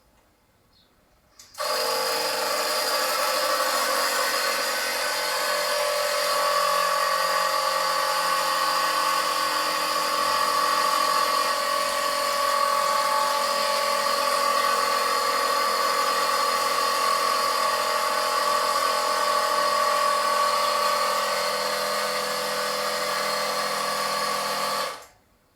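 Hand or small pump steadily pumping air into a portable water rocket launcher, a loud, continuous mechanical whir that starts abruptly, holds an even tone for over twenty seconds, then cuts off.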